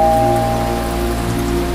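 Stormy rain pours steadily on a surface as a dramatized sound effect, a dense even hiss with a low tonal drone underneath, lasting the whole brief moment.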